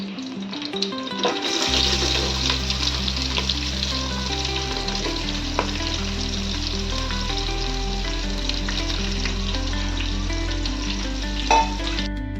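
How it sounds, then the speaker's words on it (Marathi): Vertically sliced onions frying in hot oil for chicken pulao, a loud continuous sizzle with crackling and light stirring throughout, steady and close, with no speech. "आता यात उभे चिरलेले कांदे घालून घेते।"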